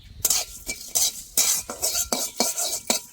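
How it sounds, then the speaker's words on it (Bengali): Whole cumin and fennel seeds frying in hot oil after cardamom and cloves, a close crackling sizzle cut by repeated rhythmic scrapes of a spoon against the pan as they are stirred. "দিয়ে দেব গোটা জিরে আর মৌরি একসাথে দিয়ে দেব। এবার ভালো করে ভেজে নেব।"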